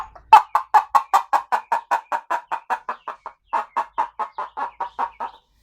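A rapid run of about twenty sharp, clucking squawks from a string pulled through a cup, imitating a chicken, with a brief pause midway. Loud and close.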